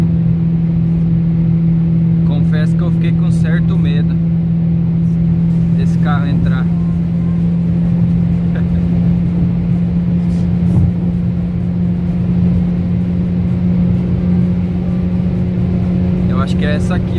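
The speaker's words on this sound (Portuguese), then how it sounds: "Aí vamos ver que velocidade que o Jetta chega aqui, com o ar desligado." A Volkswagen Jetta 2.0 Comfortline, air conditioning off, driving at high speed: a steady loud engine drone and road roar fills the whole stretch, with people talking briefly over it.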